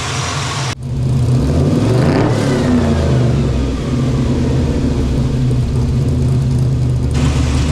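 A 1969 Chevrolet C10 pickup with an LS3 V8, shorty headers and a six-speed revs on a test drive. The engine climbs and falls in a loud, steady roar that holds from start to finish after a brief quiet opening.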